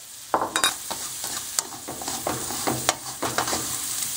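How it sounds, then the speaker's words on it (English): Dry fideo noodles toast in a pan, stirred with a utensil that scrapes and clatters in uneven bursts over a faint continuous sizzle, close and fairly quiet. "in pan number 2, I'm going to fry the dry fideo"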